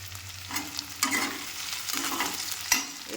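Onion and garlic fry in a pan for a chicken dish, a steady soft sizzle with a few louder stir scrapes and bursts spread through the stretch, no voices.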